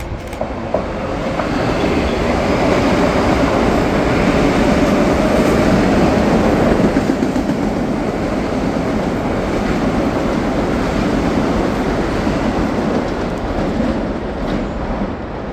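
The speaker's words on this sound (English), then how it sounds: "yet another express train heading to Grand Central comes by." An express train bound for Grand Central rushes through a station, a loud continuous roar with rapid clattering of wheels on rails, close and steady throughout, no voices.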